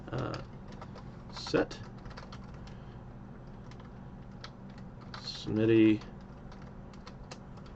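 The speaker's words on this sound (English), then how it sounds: "So we're going to go ahead and type in" Clicking keystrokes on a computer keyboard, fast and light, with short bursts of typing and pauses, while a person talks briefly in the foreground.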